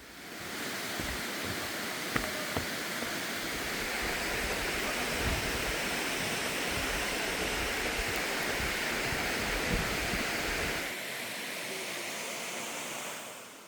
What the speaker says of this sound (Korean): 용연폭포는 크게 두 번 꺾이는 2단 폭포입니다.